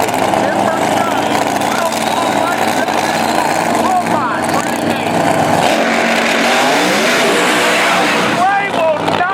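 A 2,500-horsepower Pro Mod drag racing car accelerates hard at a drag strip, a loud, sustained engine roar filling the whole span while an announcer talks over it.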